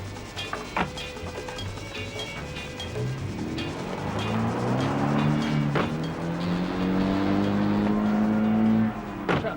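A red sports car drives along a road, its engine note climbing and holding steady as it accelerates, with a few sharp clicks and knocks, heard fairly close with no voices.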